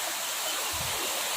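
Water trickles and rushes from small mountain streams in Chikmagalur, a soft, steady hiss of flowing water heard at a moderate distance with no voices.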